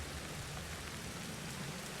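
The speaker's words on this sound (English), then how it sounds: "I know it's raining, my monkey doesn't like it" Steady rain in the prehistoric survival game Ancestors: The Humankind Odyssey, a constant, even wash of dense patter with no breaks, moderately loud and alone.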